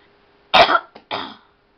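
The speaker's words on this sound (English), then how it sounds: "Sorry about my cough." A person gives a sharp, close cough followed by a brief catch and a second, softer cough, over near silence.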